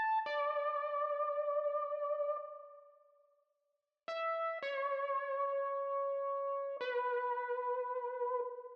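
A bright synth lead in FL Studio holds notes with a wavering modulation-wheel pitch-bend wobble, fading out, then returning in a few stepped sustained tones.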